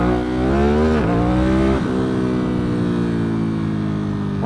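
A Kawasaki Ninja ZX10R sport bike revs hard as it accelerates into a wheelie, its loud close engine whine climbing in pitch through two gear shifts before settling into a steady high drone.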